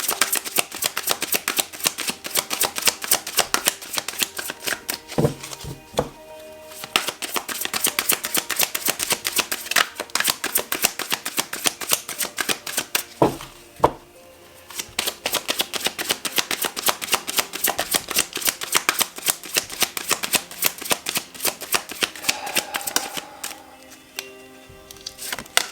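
Tarot cards being shuffled by hand in a fast, steady riffling patter that runs almost continuously near the listener, with a few short pauses and soft thumps between bursts and no talking.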